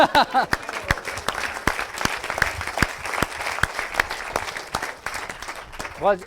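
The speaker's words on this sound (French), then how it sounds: "on l'applaudit" Audience applause fills a conference hall at the 2018 Social Selling Forum in Nantes, held at ISEG. Dense, steady clapping runs throughout, and a voice is briefly heard at the start and end.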